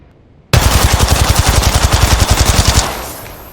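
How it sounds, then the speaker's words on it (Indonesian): Volt submachine gun in Apex Legends firing one sustained full-auto burst of rapid, evenly spaced shots that starts abruptly, holds close and loud for over two seconds, then cuts off into a brief fading tail. "Volt di sini dia bisa keluar 26 peluru"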